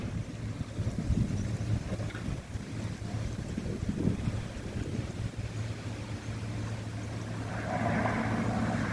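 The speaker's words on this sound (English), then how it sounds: "here comes a big gust of wind" A big gust of wind blows across an open, dusty parking lot. It makes a steady, loud rush that buffets the microphone and swells slightly toward the end, with no voices.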